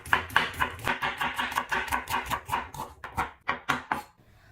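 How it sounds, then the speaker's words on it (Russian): A knife slices an onion thinly for a pie filling, giving a steady run of quick, close chopping strokes on a board, about a dozen crisp cuts in a regular rhythm with no talk. "режу лук тонко"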